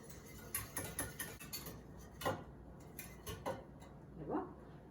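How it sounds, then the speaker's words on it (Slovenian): Milk with two eggs being whisked in a dish, a fork or whisk clinking and scraping against the bowl in quick irregular strokes, close and fairly quiet with no talk. "Premešamo."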